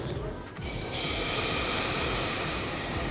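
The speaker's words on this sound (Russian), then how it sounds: "Заливаем коньячок." Cognac hits a hot sauté pan of heated pepper and bursts into a loud, steady hiss that starts suddenly after a brief quieter moment and carries on close-up.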